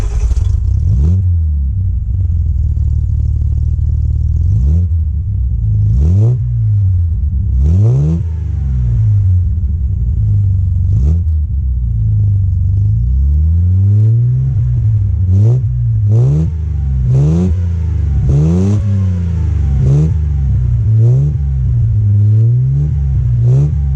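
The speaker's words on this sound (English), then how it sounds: "let's take a listen to the 106 exhaust and the 6-cylinder motor versus the 4" A 1958 Austin Healey 100-6 six-cylinder engine revs and accelerates repeatedly, its loud exhaust rising and falling in pitch with gear changes, close by and continuous.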